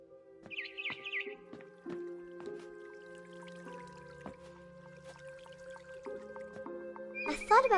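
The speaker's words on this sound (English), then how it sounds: "Then I heard chirping outside my window." A barn swallow in What Remains of Edith Finch gives a brief burst of high chirps early on, set against soft dripping, squishy sounds and a low ambient hum.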